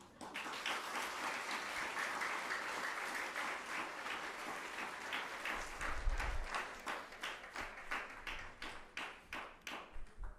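An audience at a Bhagavat Katha religious discourse in a Radha Krishna temple claps, first as dense steady applause, then as rhythmic unison claps that fade toward the end.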